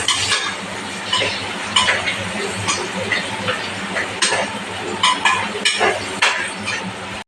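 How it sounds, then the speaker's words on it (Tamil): Finely chopped onions going into a pan of green chilies frying in oil, with a steady sizzle under frequent scraping and clinking of a metal spoon against the pan, close and fairly loud, no talking. "இனி அடுத்தது வந்து மலை வெங்காயம் பொடியாக கட் பண்ணி வச்சு போடுறேன்"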